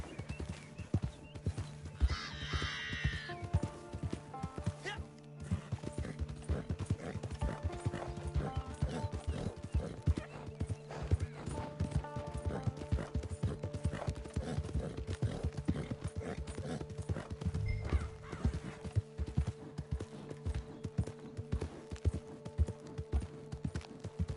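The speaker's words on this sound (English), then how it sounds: "there goes some other horses" Horses clip-clop across the ground in Red Dead Redemption 2, a steady run of hoof beats with mechanical rattles and an ambient game score behind them, but no clear neigh stands out.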